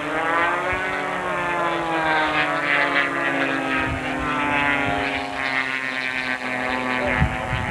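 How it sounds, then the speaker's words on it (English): Radio-controlled model P-51 Mustang airplanes race around pylons, their propeller engines whining loud and steady with a shifting pitch as they bank past, no talk. "Pulling is way ahead of 887, which is Cliff McGee in the purple P-51."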